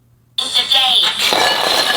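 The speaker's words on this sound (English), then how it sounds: "Tap water ice cubes, not optimal." Tap-water ice cubes drop into a glass, starting abruptly after a brief silence with a bright, ringing clink and a rattle of cubes settling. Close and fairly loud, the sound fades into a continuing clatter.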